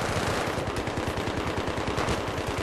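Rapid automatic gunfire from the video game Battlefield 3, a dense continuous burst of loud shots with no speech over it.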